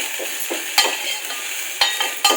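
Cluster bean (gavar) vegetable curry being stirred in a pan, Malvani style: a steady soft sizzle with scraping stirring strokes and three sharper utensil knocks against the pan, close and moderately loud, no talking.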